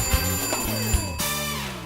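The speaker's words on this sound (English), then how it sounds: "Have you noticed alarms always come off at exactly the wrong time?" An electronic alarm rings with steady, buzzing tones that shift pitch partway through, continuous and fairly close.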